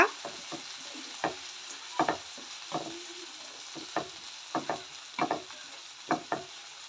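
Tomatoes fry in a pan for village-style chicken curry, a quiet continuous sizzle punctuated by a dozen sharp spatula scrapes and knocks against the pan in an irregular stirring rhythm, close and with no talking.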